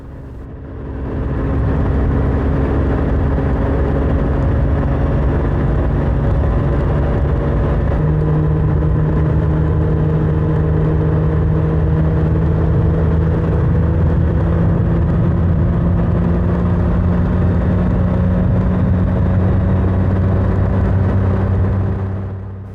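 A motorbike rides the twisting mountain stretch of Route 421 in eastern Kentucky, its engine droning loud and steady with shifting pitch as it climbs and changes gear, rising in at the start and easing off at the end.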